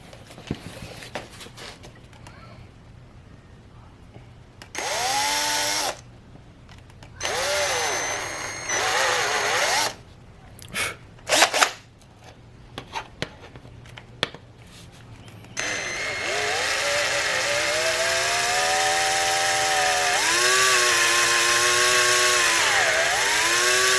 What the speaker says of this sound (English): Got the intake marked where I want the nozzle, so we'll go ahead and drill it.